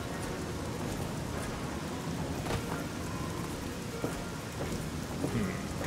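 Steady, heavy rain hisses continuously, with low rumbles of thunder rolling faintly underneath, in a video game.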